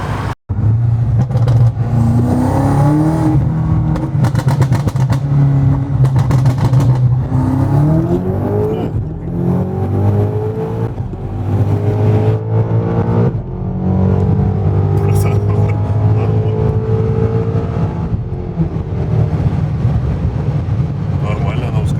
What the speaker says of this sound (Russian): Нормально она ускоряется. Может, когда хочет.